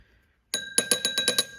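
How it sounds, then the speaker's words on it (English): A cracked bell in a 1946 GPO 332 telephone rings in a quick burst of about six harsh, jangly strikes after a short silence, close and fairly loud with a buzzy, off-pitch metallic tone. "Two cracks in the bell, which it gives it that odd sound."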